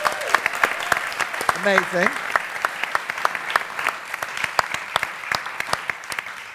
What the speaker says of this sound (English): a round of applause to Nikki, ladies and gentlemen